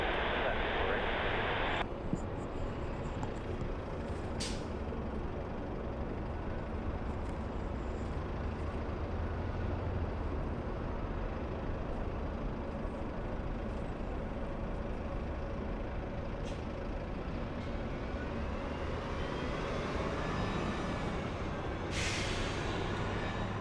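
A United Airlines airliner passes overhead near Burbank, a broad continuous jet roar that holds steady throughout, with a brief rising whine near the end.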